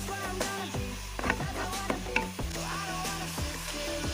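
Ingredients mixed with ground chili frying in a pan, a soft sizzle punctuated by regular clinks and scrapes of stirring, with a steady tonal hum running underneath.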